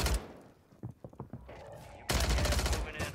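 Bursts of automatic gunfire in Warzone on Rebirth Island, scattered shots early then a loud sustained volley near the end, with voices talking in between.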